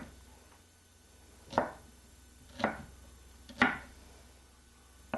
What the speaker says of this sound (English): it's just a matter of chopping the onions and chopping them finely so we don't have any big chunks of onion anywhere in the filling